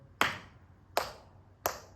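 Three crisp hand claps, evenly spaced about three-quarters of a second apart, sharp and close, marking a laghu count in a tala demonstration at a tabla rhythm workshop.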